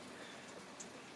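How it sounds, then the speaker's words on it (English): Heavy monsoon downpour outside comes through as a steady, even hiss, fairly faint and muffled as if heard from indoors, with no talk over it. "I don't know if you can hear that right now, but it is like an effing monsoon outside."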